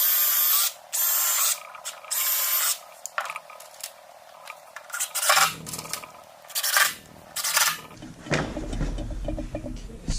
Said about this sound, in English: And then just drive a couple screws in.